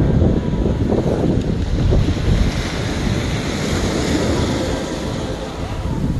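Sea waves wash and roll steadily onto a rocky beach with large boulders while strong wind buffets the microphone, a loud continuous roar at sunset on New Year's Day in Korea.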